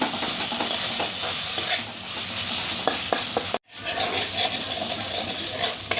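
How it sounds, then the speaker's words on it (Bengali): Tomato being sautéed with spices, onion and chopped green chillies in a hot pan, a steady close sizzle with scraping spatula stirs throughout, broken by a brief dead gap midway before the frying resumes. "এখন মশলার সাথে টমেটোটা ভালো করে কষিয়ে নিচ্ছি"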